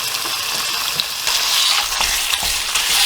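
Ground pork sizzles loudly in hot oil in a wok, a dense, steady crackle and hiss with occasional stirring scrapes, close and with no talking.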